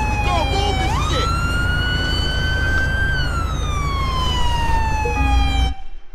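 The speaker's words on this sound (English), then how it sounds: "I gotta fucking shut off my siren." A police car siren in the LSPDFR police video game wails loud and close, sweeping up and then slowly falling in pitch before cutting off abruptly near the end.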